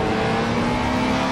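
A race car in Project Cars, from a historic GTC-TC Euro Classic Cup race, roars alongside with a steady, loud engine drone and tonal whine throughout, close and continuous with no voices.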